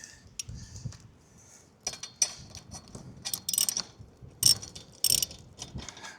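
A ham antenna mount on a roof being twisted and tightened by hand, giving irregular close metallic clicks, ratcheting ticks and scraping clunks that come in uneven bursts with short pauses between them.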